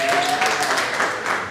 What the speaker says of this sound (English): Round of applause for Maki again, please.